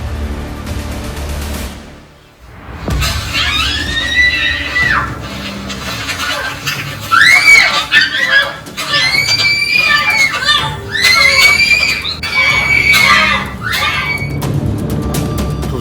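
A woman in a home audio recording screams repeatedly in sharp, shrill bursts during a domestic confrontation, close and loud, mixed with muffled knocks and other voices talking.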